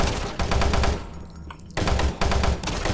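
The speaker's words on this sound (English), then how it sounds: "Shooting at us with a pistol" Rapid gunfire in the video game DOOM 3, loud, dense bursts of repeated shots with a brief lull in the middle before the firing resumes.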